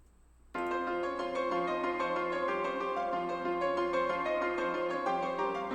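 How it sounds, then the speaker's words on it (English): Two layered Nexus piano presets play together, a full chord entering after a brief moment of quiet and then sustaining with shimmering overtones and small melodic movements, steady and alone. "So those two pianos together sounds like this."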